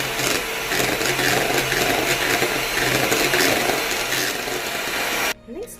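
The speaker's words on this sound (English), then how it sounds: "I'm going to whisk it again" Electric whisk beating a cream cheese mixture with salt and lemon juice for Japanese cotton cheesecake, a steady loud buzzing whir running continuously before cutting off abruptly near the end.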